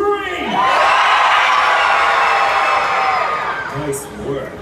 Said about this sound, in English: I need you guys to scream and cheer louder than those guys